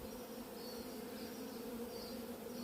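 A small swarm of Italian honeybees gives a continuous, close, humming buzz with a steady drone, soft overall and unbroken for the whole short stretch.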